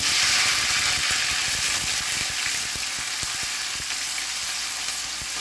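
Onion and garlic dropped into hot oil give a loud, dense, continuous sizzle close by, with faint clicks of a spatula scattered through it and no voices.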